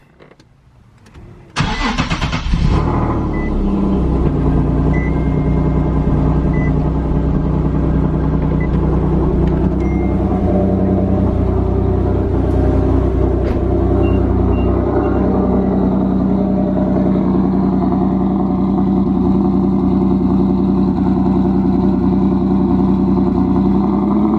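A single-turbo Nissan 370Z engine starts up and settles into a steady, loud rumble that carries on throughout, with the revs rising and falling slightly.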